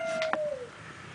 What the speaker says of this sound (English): The doves meow too.